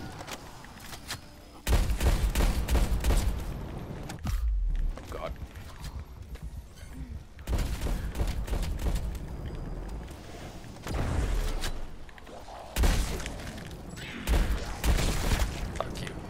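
Bursts of gunfire from Call of Duty Cold War zombies on the Nuketown 84 map, several loud clusters of shots separated by quieter gaps, with a player's voice talking over parts of it.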